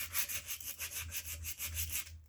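Sandpaper rubs back and forth on a wooden Brown Bess musket stock, a close rhythmic scratchy rasp in quick even strokes, alone.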